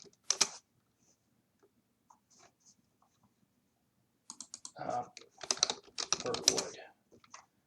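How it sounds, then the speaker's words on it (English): An address is typed on a computer keyboard: a single key press, then a quiet gap, then rapid bursts of close, crisp keystrokes. A person speaks briefly over the clicking. "I'm going to go over here and type in the address."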